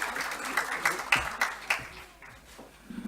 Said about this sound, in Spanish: Pueden aplaudirlos.